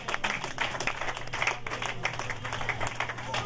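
Congregation clapping at a church rally, a dense patter of many hands applauding steadily for a few seconds, close and fairly loud.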